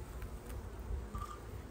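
Honey bees buzzing over a hive frame crowded with drone brood, a faint, steady hum close by with a brief higher whine partway through and no voices.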